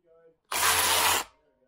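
A brief, loud burst of a power drill drilling out the back on a new building site, running for under a second, with quiet talk before and after.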